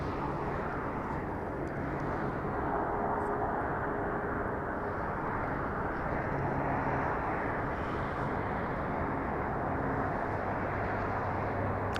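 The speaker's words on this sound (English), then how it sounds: "coming in from Calgary, flight 1510. It's a 737 next gen 800." A WestJet Boeing 737-800 from Calgary arrives at LAX, a steady, broad engine roar that holds evenly and moderately loud for the whole stretch, with no talk over it.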